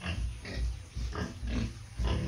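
Pigs on a pig farm grunt in low, rough pulses, several close grunts in a steady rhythm with no talking.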